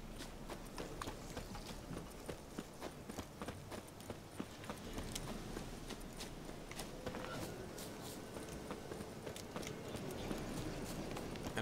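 Horse hooves clip-clop steadily and continuously in the Witcher 3 video game, several horses close by with a dense, even rhythm and faint ambient background throughout.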